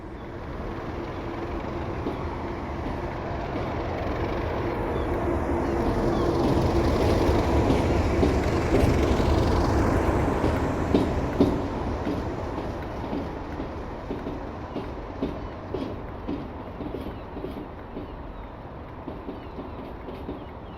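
Class 37/4 diesel locomotive, a variant upgraded for electric train heat, in a train simulator game: a steady low engine drone that swells and fades while faint rhythmic wheel clicks continue underneath, with no talk.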